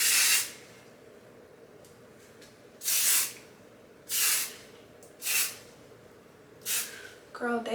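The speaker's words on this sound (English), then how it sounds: "Get some hairspray." Hairspray hisses from an aerosol can onto styled hair in six short, close bursts separated by brief pauses, with a voice starting at the very end.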